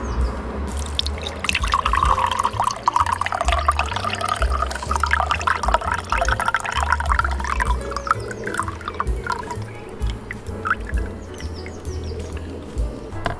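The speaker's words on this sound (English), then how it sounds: "so we're just going to drain it off" Salt water and impurities drain out from beneath rendered beef tallow, a continuous trickling, splashing flow of liquid that runs steadily for several seconds before tapering off, with faint chirping in the background.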